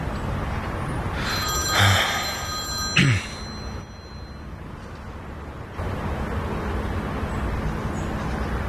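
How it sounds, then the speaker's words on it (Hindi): A telephone rings on an outgoing call in a Turkish drama scene, giving one short ring burst with a brief clack after it, followed by quiet line hiss. "निहान, इंतजार करने के बजाय फोन लगाओ"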